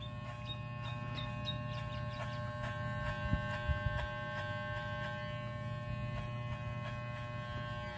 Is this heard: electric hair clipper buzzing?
yes